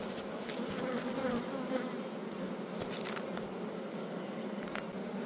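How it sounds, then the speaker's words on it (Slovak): Honeybees swarm thickly around a hive of a colony that has swarmed and is left without a queen, making a dense, steady buzzing hum that stays constant and close throughout, with no talking. "A mne sa zdá, že tu je strašne veľa včiel"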